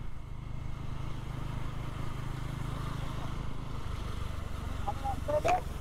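Motorcycles riding along a bypass road, a steady low engine and road rumble running throughout, with a brief brighter engine rise near the end.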